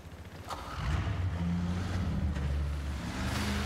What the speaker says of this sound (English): I can take a boat.